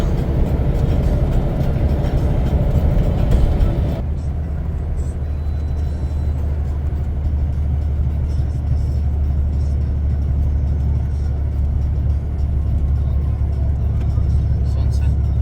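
A car drives on a winter highway toward Mogocha in sub-zero cold, with a steady low road rumble and engine drone throughout, a brief heavier rush in the first four seconds, and people talking over it.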